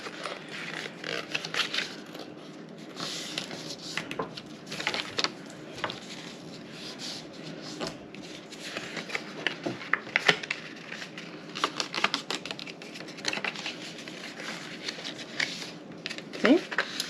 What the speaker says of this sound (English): Now you're going to fold and burnish all of your score lines.